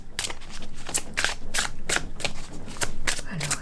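Oracle cards being shuffled during a card reading, a run of repeated riffling bursts at a steady rhythm, close and clear, with no one speaking over them.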